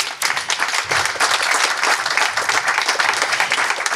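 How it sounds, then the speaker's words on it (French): Dense, sustained applause from a conference audience, loud and even throughout, with many hands clapping at once and no talk. "on peut t'applaudir"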